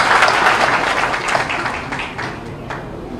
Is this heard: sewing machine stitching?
no